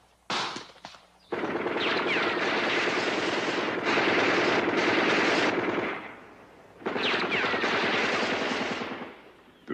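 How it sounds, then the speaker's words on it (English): Sustained automatic fire from a Soviet AK-47 rifle, the standard weapon of North Vietnamese soldiers, rattles loudly in dense bursts for several seconds, breaks off briefly, then resumes, with a helicopter-like drone and other combat noise underneath. "The Soviet AK-47 rifle, the standard weapon of the North Vietnamese soldier."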